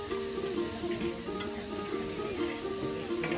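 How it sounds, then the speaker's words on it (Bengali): Pieces of fried chicken go into hot oil with sautéed spices in a Bede family pot of chicken curry, giving a steady, close sizzle with scraping and stirring throughout and no talk. "আর এখন ভেজে নেওয়া মাংসগুলো দিয়ে দেওয়া হবে"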